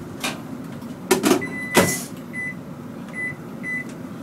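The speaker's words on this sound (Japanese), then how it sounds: "じゃあ1分20秒ほど電子レンジで、チングをするわけでございますね" A microwave oven heating frozen Sukiya beef for 1 minute 20 seconds clunks and clicks nearby, then gives a few short, evenly spaced electronic beeps over a quiet hum.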